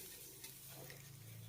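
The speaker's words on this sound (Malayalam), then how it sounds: "എള്ള് നന്നായി കഴുകിയ ശേഷമാണ് വറുത്തെടുക്കുന്നത്." Washed sesame seeds roasting in a pan, a faint, steady soft sizzle with light stirring scrapes throughout.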